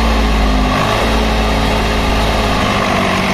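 A Swaraj 735 FE tractor engine running loud and close while sowing wheat, a continuous heavy low chug with a steady rhythmic drone throughout.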